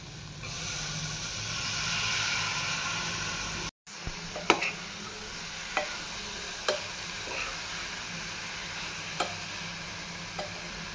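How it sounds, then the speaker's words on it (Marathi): Spice powders are stirred into dal khichdi in a hot pan, with a steady sizzling hiss and, after a short break, a series of sharp spoon taps and scrapes against the pan at irregular intervals. "पिट्टी आणि मिरसांगे पिट्टी घालून लायक करून एक फावटी मिक्स करता."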